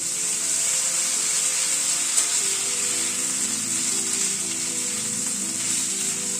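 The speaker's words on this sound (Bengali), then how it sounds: "আদার কাঁচা লঙ্কাটাকে একটু হালকা করে ভেজে নেব" Ginger and green chilli paste frying in hot oil in a pan gives a steady, close, even sizzle throughout, with no voices.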